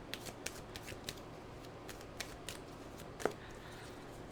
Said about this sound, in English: I just shuffled the cards.